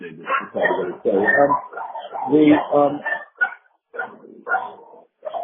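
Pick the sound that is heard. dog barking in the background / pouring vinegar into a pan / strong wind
dog barking in the background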